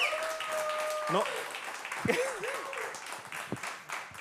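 Applause for a live band on a Spanish-language bar TV show: a soft wash of clapping sits under a man's loud speech, with brief musical tones fading at the start.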